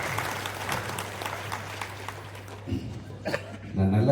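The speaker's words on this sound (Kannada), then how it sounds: "ಈ ಮಗುವಿಗೆ ದಯಮಾಡಿ ಹೆಚ್ಚು ಚಪ್ಪಾಳೆ ಕೊಟ್ಟು" An audience claps for a young keyboard player at a stage event, a steady patter of applause at moderate distance that thins out toward the end, with a voice speaking over it.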